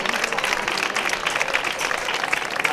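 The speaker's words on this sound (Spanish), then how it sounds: "para que yo pido un fuerte aplauso" Strong audience applause at an offering of flowers to Our Lady of Hope during the La Redondela pilgrimage festival, dense and steady clapping from a crowd throughout.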